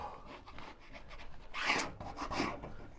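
A squeegee sweeps across freshly hung wallpaper in short, soft rubbing and scraping strokes, quiet and close, with one firmer swipe in the middle.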